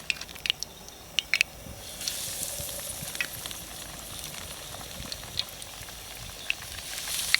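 Peanut oil with a little water in it heats in a frying pan, giving a steady low sizzle with scattered sharp pops and crackles that thicken after a couple of seconds, close and alone with no talk.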